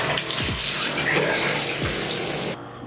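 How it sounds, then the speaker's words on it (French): Running water from a shower pours in a steady broad hiss, loud and close, cutting off abruptly near the end, with no speech. "prendre une douche très froide, aussi froide que possible"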